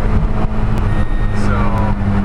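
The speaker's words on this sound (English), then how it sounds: "There we go, the limiter comes in." A 1983 Subaru Sambar kei van's small engine holds at its rev limiter, a loud, strained, buzzing drone with brief stuttering cuts, recorded close and steady throughout.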